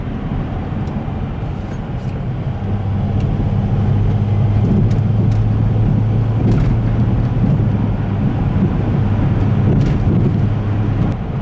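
Mercedes GL320 with a turbo actuator fault cruising at about 60 mph, a steady loud road and engine drone with a sustained low hum and tyre noise, continuous with no talking.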